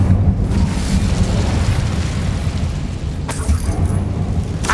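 An Incendio fire spell cast in Hogwarts Legacy bursts with a dense, rumbling roar and sustained whoosh of flame, loud and steady throughout, with a sharper crackle near the end.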